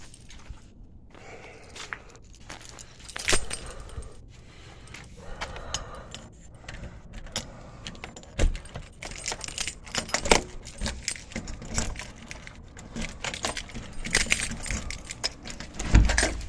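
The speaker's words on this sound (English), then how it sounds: "grab my keys, is what I'm after." Bunch of keys jangling and clinking close by, irregular metallic rattles and jingles repeated throughout, with some handling noise and background rumble.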